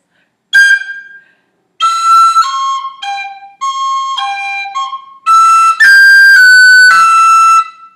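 A tin whistle plays a traditional Irish tune, Kitty's Rambles, in clear tongued and slurred phrases with short gaps between them, loud and close, with no voice over the notes.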